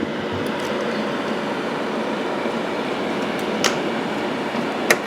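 A chamber vacuum sealer runs with a steady, close mechanical drone and airy hiss, its pump humming evenly throughout, with a couple of faint clicks near the end.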